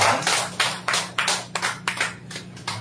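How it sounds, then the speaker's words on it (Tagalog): A small congregation at a preaching service claps loudly for the Lord in a quick run of uneven, sharp bursts that rise and fall, close and without voices. "Sa nga pong malakas na palakpak po para sa ating Panginoon."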